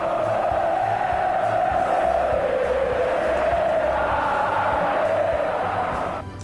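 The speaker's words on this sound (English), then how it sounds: "Football matches across Brazil were stopped for a minute's silence yesterday as the crowds chanted" Large football crowd in a Brazilian stadium chanting a racing driver's name in unison, a dense sustained roar of many voices swelling and holding steady throughout before easing slightly at the end.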